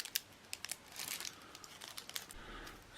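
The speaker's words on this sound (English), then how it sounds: "Then we cut off a strip in the right height." Cutting a strip of material for a matchbox firestarter kit, quiet crinkling and snipping with a few sharp rustles in close-up, no voices.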